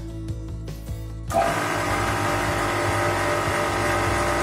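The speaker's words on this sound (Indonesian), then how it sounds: "Oke, dinyalakan langsung motornya." An electric motor in a lab test under 1 Nm torque load switches on after a quieter hum, then runs at a steady, loud, even whine with a constant tone.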